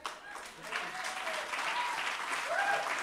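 Conference audience applauding steadily throughout, a dense continuous patter of many hands clapping at moderate distance, with no speech over it.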